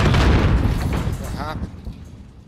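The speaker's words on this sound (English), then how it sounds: "He threw a grenade." A grenade blast in a multiplayer shooter game, one loud, close boom with a heavy low rumble that decays over about two seconds, with voices talking over it.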